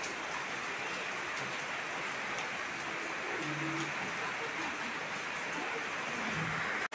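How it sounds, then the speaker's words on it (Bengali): Heavy rain falls under a dark sky, a steady, even hiss of drops running throughout at moderate level, with a faint voice briefly audible in the middle. "দেখো আজকে খুব বৃষ্টি হয়।"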